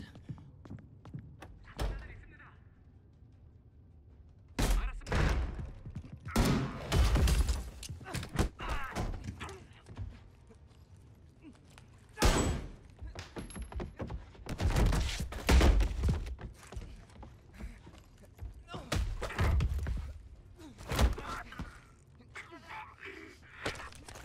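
Gunfire in the video game Homefront: The Revolution comes in several loud, sharp bursts and thuds, spread unevenly between quieter gaps, with a voice talking at times.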